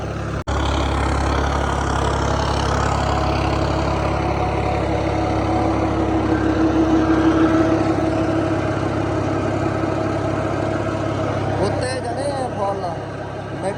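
A tractor engine runs steadily and loudly nearby, its low drone continuous throughout with a faint voice briefly audible near the end.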